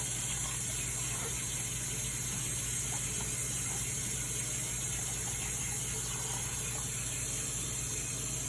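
Water runs steadily while a three-month-old baby's hair is rinsed during a bath, a constant close gushing flow with a low hum beneath it and no talking.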